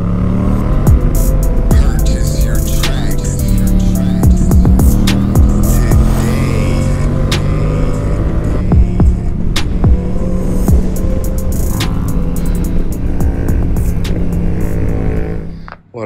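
Yamaha MT-07 motorcycle fitted with an Akrapovic carbon exhaust being ridden, the engine droning loud and close with rising and falling revs over steady wind rush throughout.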